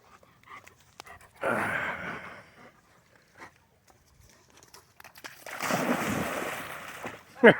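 A dog swims and splashes in water: two loud, close bursts of splashing separated by a quiet stretch with faint small noises.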